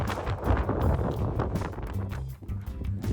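Strong wind buffeting the microphone atop Twin Peaks in San Francisco, a steady loud low roar with gusting surges throughout, dipping briefly near the end.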